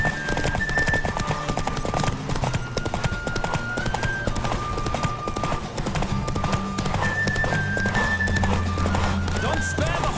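A horse gallops in a race in The Witcher 3, with steady rapid hoofbeats, snorts and neighs close by, over constant background music and intermittent talk.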